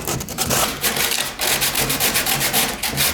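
Sandpaper rubs back and forth over a fiberglass car bumper in quick, rhythmic gritty strokes, loud and close with brief pauses between passes.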